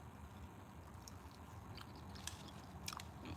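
Crunchy fried catfish from a barbecue restaurant being bitten and chewed up close, a steady run of crisp crunching and wet mastication with a few sharper bites near the end.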